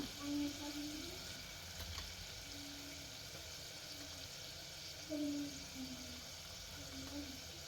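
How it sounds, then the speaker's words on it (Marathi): Mutton masala with onion-garlic spice and Byadgi chili powder frying in oil, a quiet soft sizzle with a few gentle stirring sounds, with a person speaking over it. "हे चांगलं तेल सुटेपर्यंत आपण परतून घेऊया"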